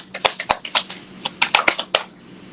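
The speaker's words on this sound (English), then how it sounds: "Put that back and shuffle again." Tarot cards being shuffled by hand, a quick series of crisp riffling snaps and taps that come in irregular bursts, close and fairly quiet, with a short pause midway.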